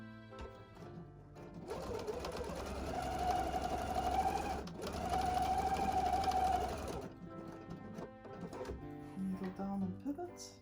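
A sewing machine stitching a fabric pouch runs in two steady whirring bursts with a brief pause between them, close and clear, then stops; a voice speaks faintly alongside.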